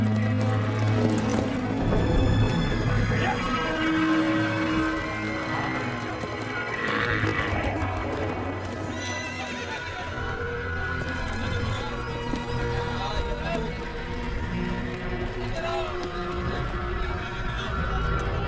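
A horse neighs amid clopping hooves in a dubbed movie scene, the whinny and hoofbeats fairly loud and continuous over a busy background.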